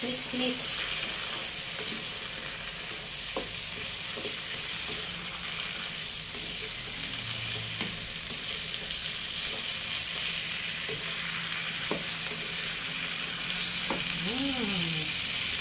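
Mixed vegetables, including string beans, are stir-fried in a pan with a continuous loud sizzle, scraping stirs and a few sharp utensil clicks, plus brief watery sounds.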